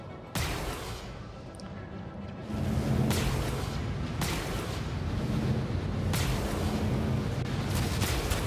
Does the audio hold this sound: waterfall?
no